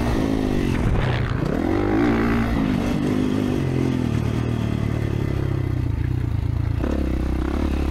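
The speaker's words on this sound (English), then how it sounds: "Oh man, bike sounds so good." A 2024 Kawasaki KX450 motocross bike runs close and loud at a senior 50-plus motocross race. The engine drones steadily, with pitch rising and falling as it revs and shifts.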